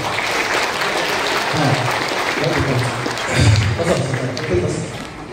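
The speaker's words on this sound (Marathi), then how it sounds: "सर्वांसाठी जोरदार टाळ्या झाल्या पाहिजे" Sustained, loud clapping from a crowd at a social foundation's product launch event in Kolhapur, filling the whole stretch, swelling slightly midway, with voices faintly mixed in.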